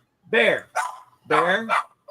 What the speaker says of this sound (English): Whose dog is having a conniption?